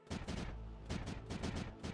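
Cannons in the video game Creeper World 4 fire in rapid, rumbling bursts, the booming volleys repeating in clusters and overlapping into a continuous, fairly quiet barrage.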